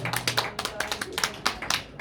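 Church congregation applauding during a year-end Sunday service, a short burst of scattered clapping from a modest crowd, with a little talk mixed in.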